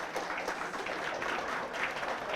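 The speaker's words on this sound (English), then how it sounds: "after a long time you have clapped here" A lecture-hall audience applauds in a steady, dense patter of many hands, moderately loud and sustained throughout without a break.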